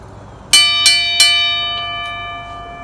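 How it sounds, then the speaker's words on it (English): Three bright, ringing bell strikes come in quick succession, each one leaving a long, slowly fading metallic tone in an otherwise quiet room. "The bell just rang"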